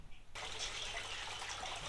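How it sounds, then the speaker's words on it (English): A small garden water feature trickles in a corner of a backyard pergola, a steady broadband splash that starts abruptly and continues evenly at low level. "Just what the corner needed. A nice little water feature."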